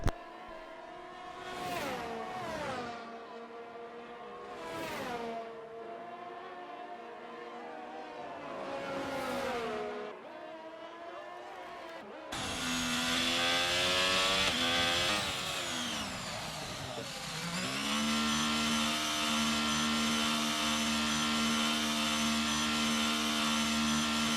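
Race cars duel on the Red Bull Ring in a racing video game. Several close, high-revving engines rise and fall in repeated sweeps, then a louder, steadier multi-harmonic engine drone takes over partway through.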